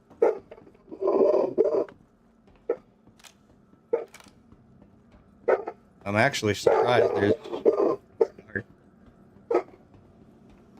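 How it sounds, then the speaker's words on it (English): A dog barks at a squirrel in a few sharp, close bursts, with a cluster of rapid yips in the middle, while someone talks over a quiet game background. "My dog's barking at a squirrel"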